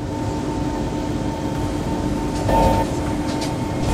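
A KHI PE-Series C151 train runs in Roblox, with a steady rail rumble and a faint tone, then a brief louder swell midway and a steady rise near the end.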